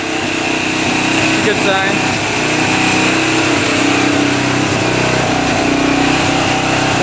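A 600cc street-legal dirt bike engine idles loud and close with a steady, buzzy running note, while someone talks over it.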